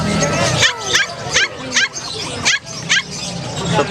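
Several dogs at a Malabon pet market in Metro Manila, mini pinschers and poodles among them, bark and yip in repeated sharp bursts close by, with a constant background of crowd chatter and people talking.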